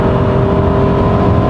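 The engine of a 2003 SsangYong Chairman CM600S is revving past 5,000 rpm, a loud, continuous humming roar with a steady pitch, heard from inside the cabin.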